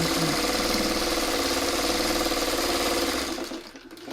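Sewing machine stitching a quilt block: a steady, fast mechanical whirring hum with rapid needle ticks, close and loud, running continuously before slowing and stopping near the end.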